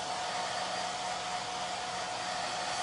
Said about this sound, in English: I'm taking my hair dryer.